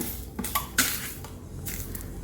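A utensil cuts cooked egg in a metal pot, scraping and tapping a few times, soft clinks and short scraping strokes with quiet gaps between.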